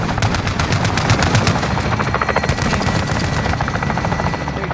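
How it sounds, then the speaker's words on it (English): Helicopter rotor thumping mixed with sustained rapid machine-gun bursts from an enemy chopper gunner in a first-person shooter video game, loud and continuous throughout with no talk. "Enemy chopper gunner on approach."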